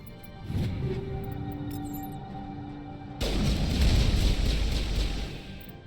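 Muffled booms and rumbling weapon fire in the Mass Effect video game, a steady low roar with a sudden louder burst of gunfire partway through that carries on to the end.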